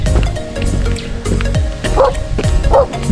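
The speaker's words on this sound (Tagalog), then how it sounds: "May aso. Kakagat niya ata ako." A dog barks several times on a walk toward a mountain viewpoint, sharp yips recurring at irregular intervals, close and fairly loud over outdoor background noise.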